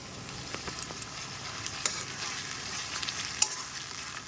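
Masala-coated chicken fries in a pan while being stirred, with a close crackling sizzle broken by sharp utensil scrapes and clinks against the metal, and no voices.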